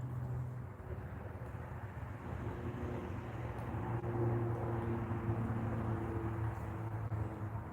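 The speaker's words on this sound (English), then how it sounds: "I see an airplane flying over, and he's got his running lights on still" Distant airplane passing overhead, a faint steady low drone and rumble holding for several seconds outdoors.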